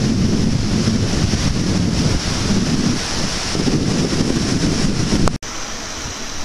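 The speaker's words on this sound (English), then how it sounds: "this is the ocean side of the Marshall Islands. You can see there's a lot of waves over here," Ocean waves break and wash continuously on the exposed ocean-side shore of the Marshall Islands, a dense, steady roar mixed with gusty wind buffeting the microphone, ending in a brief handling thump.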